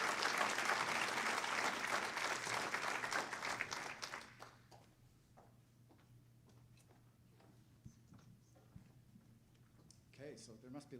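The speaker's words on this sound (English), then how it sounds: "I think we should have a round of applause again for Dr. Prete for a fantastic presentation" An audience applauds after a lecture on the Kainai stolen children era. Dense, steady clapping fills the room for about four seconds, then cuts off, leaving a quiet hall with a few faint ticks and a brief stir near the end.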